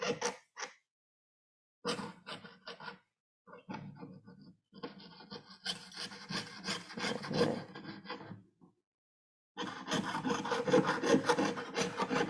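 A saw blade cuts through metal in bursts of rasping back-and-forth strokes, close and fairly loud, with short silent pauses between runs of sawing.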